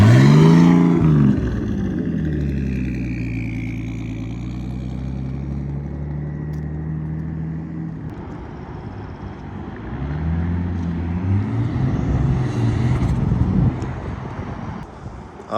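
A turbocharged Datsun 280Z engine revs up to about 3,000 RPM and eases off, the tone rising and falling twice with rushing wind noise, no talking over it.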